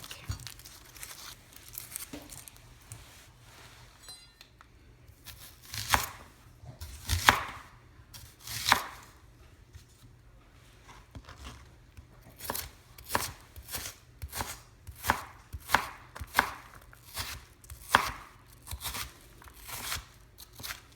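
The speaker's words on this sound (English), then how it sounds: "So I'm going to get this onion ready to chop" A knife chops through onion on a board in rapid, repeated strikes, irregular at first and then settling into a steady rhythm, close and crisp.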